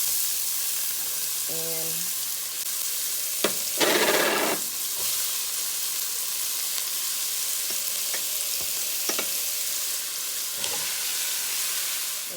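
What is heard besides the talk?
vegetables frying in pot for oxtail stew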